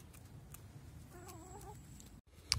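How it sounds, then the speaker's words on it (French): Hens in a chicken coop, newly arrived, giving a short run of soft clucks over a low background rumble, followed by a brief louder knock near the end. "les nouvelles poules sont arrivées"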